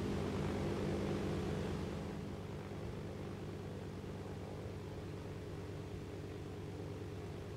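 Steady engine drone of an airplane in Arma 2's DayZ Overpoch mod, a continuous low rumble with a faint propeller-like hum, fairly loud and unbroken, easing slightly in level after the first couple of seconds.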